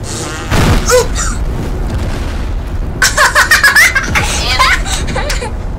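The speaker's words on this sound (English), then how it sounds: "the amp exploded" A guitar amp blows up in Teardown, a heavy boom near the start followed by bursts of loud laughter and excited voices.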